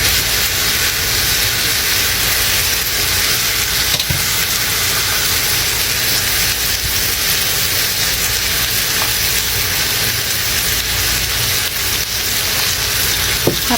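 Hotdogs frying in a pan with salt and pepper give off a steady, loud, close sizzle and hiss that runs unbroken throughout, with a couple of faint utensil taps.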